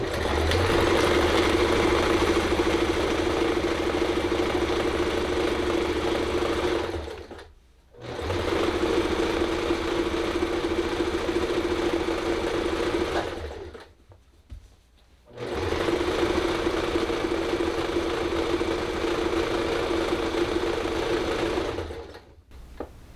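Machine sewing a rolled-up Dollar Tree rug: a loud, steady mechanical hum runs in three long bursts, separated by two short pauses and ending in a brief stop, with no talking.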